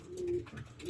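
Racing pigeon cock in a breeding loft cooing near and faint, a low steady coo swelling twice over under a soft room hiss, with no talk.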